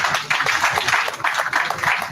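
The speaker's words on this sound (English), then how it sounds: "A round of applause, please" Audience applause at a Kenyan political gathering, a steady mid-level patter of many hands clapping for about two seconds with no voices over it.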